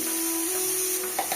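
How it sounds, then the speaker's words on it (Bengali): Chicken curry spices, ginger-garlic paste among them, sauté in butter in a pan with a steady close sizzle that holds for over a second and ends in a couple of brief stirring clatters. "মাংসের জন্য মশলা কষা হচ্ছে"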